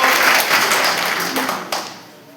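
Applause in honour of the MD at a gathering, a dense crowd clapping that holds steady and fades toward the end, with no voice over it.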